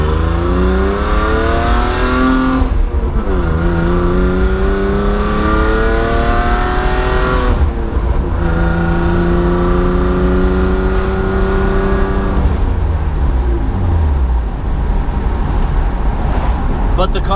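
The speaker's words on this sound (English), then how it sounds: "But the car sounds great" A car engine revs up repeatedly through the gears, pitch climbing and dropping between shifts, loud and close, as if heard from inside while driving.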